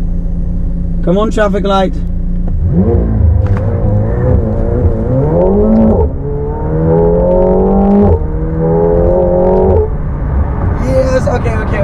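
Car launched hard from a standstill with launch control, engine revving and pulling through several rising gear sweeps, loud and close, with excited people talking over it throughout.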